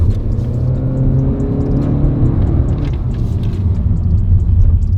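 A 4-cylinder turbo car accelerating hard in sport mode, its engine drone steady and loud from inside the cabin, rumbling and whirring throughout with no pause.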